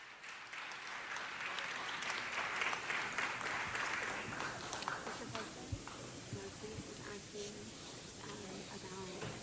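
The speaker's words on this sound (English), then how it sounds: "One more round of applause." Audience applause at the close of a presentation, a dense spatter of clapping that swells and then gradually thins out, with voices murmuring underneath.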